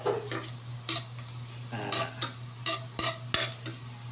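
Garlic and onion sautéing in a pan, close sizzling broken by repeated stirring scrapes and clanks of a utensil, over a low steady hum, no talking.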